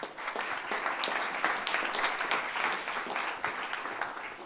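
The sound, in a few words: audience applause for a presenter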